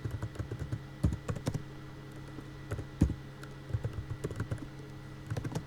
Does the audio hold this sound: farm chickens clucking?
no